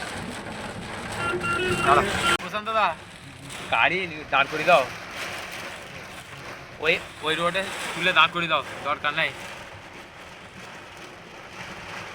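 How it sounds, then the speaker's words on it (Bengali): Hail and heavy rain drum steadily on a road and a stopped vehicle, a constant dense patter close by, while people talk loudly over it. "রাস্তার উপরে শিলা বৃষ্টি হচ্ছে, আর সঙ্গে সঙ্গে দেখো মানে তোমার বৃষ্টির প্রভাবটা, ওয়াইপার পেপারেও কাজ হচ্ছে না"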